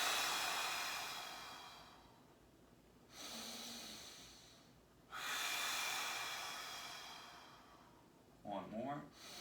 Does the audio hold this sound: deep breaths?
yes